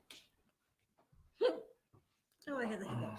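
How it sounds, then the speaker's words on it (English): A hiccup-like sound breaks out once amid sparse, quiet voice sounds in a small group gathering, followed by louder talking near the end. "I hear the hiccups."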